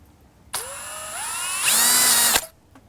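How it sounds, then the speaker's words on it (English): A cordless drill with a 1/8 inch bit bores screw holes while fitting an Andersen 400 Series storm door handle: one continuous motor whine of about two seconds that climbs in pitch and grows louder as it bites, then stops abruptly, close and with no talk. "I'm going to use my 1/8 inch drill bit, drill a hole right here and right here for these screws."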